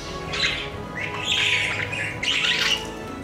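A budgie chirps in quick, bright bursts of warbling and squawky tweets, close and clear over a steady low background hum, in three main phrases.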